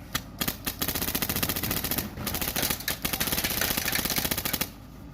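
Paintball marker, a Planet Eclipse CS2 or similar, firing on semi-auto in rapid strings of sharp cracking shots, a few seconds long with brief pauses between bursts, fairly close.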